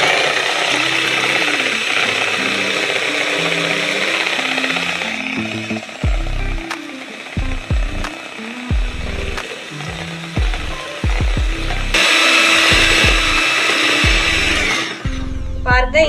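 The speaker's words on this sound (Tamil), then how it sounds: "இப்போ இதெல்லாத்தையும் நம்ம நல்லா பீட்டரை வச்சு நான் மிக்ஸ் பண்ணி எடுத்துக்கிறேன்." Electric hand beater whisking eggs in a bowl, a loud continuous high-pitched motor whine with rattling blades, stopping and restarting in short bursts partway through before running steadily again.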